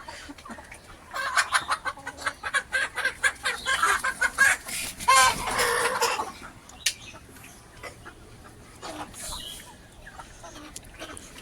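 Farm chickens cluck busily while eating, a close flurry of rhythmic clucks and pecking that swells in the middle, then thins to scattered calls with faint talk.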